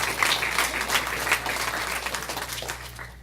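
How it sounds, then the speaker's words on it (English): Audience applause at a Shabbat service talk by a rabbi, a dense burst of hand clapping from a seated crowd indoors, steady then gradually thinning over a few seconds. "Yeah, you could clap for that."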